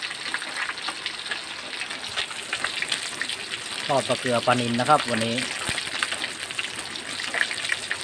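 Soft, steady patter of light rain under a crackling background, with someone speaking briefly in the middle.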